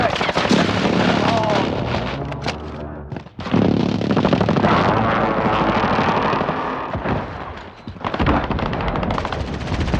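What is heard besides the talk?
precision airstrike explosions in a video game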